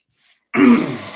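A single harsh cough or throat clearing bursts out close by after a brief soft breath, then trails off.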